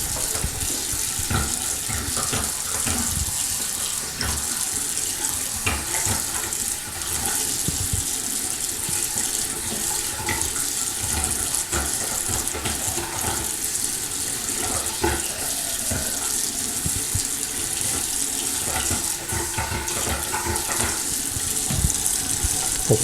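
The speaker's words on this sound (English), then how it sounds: "We're going to run the water at the same time." Water running from a faucet into a slow-draining sink, a continuous close splashing stream with gurgling as it pools over the drain, steady throughout with occasional small clunks and no voices.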